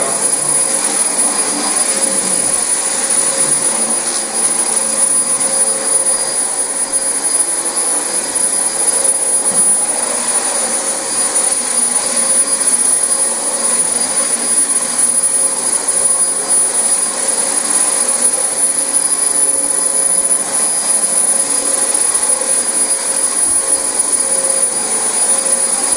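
Dyson DC25 upright vacuum with a worn cyclone gasket runs over a very dirty carpet, a loud steady whine and rushing airflow held without pause, close and unbroken.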